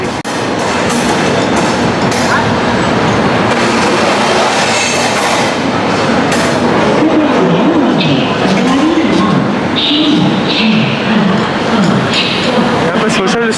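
A passenger express train pulls out of a platform at New Delhi railway station, with loud rumbling wheels, rhythmic clatter and squealing over the rails, while people talk nearby throughout.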